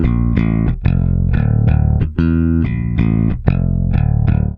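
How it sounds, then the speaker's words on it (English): A bass line from a song, picked with a percussive attack: a tight, rhythmic series of gritty, close notes with short gaps between phrases, played alone. "the bass line is doing something a little more percussive, likely with a pick, and it sounds like this."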